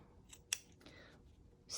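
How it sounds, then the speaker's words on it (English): Scissors snip through fabric lining while trimming the sides of a skull-head zip bag, a crisp single cut standing out near the middle of a short, quiet stretch with another snip at the end. "I'm going to cut the left and right away, so that's less fabric."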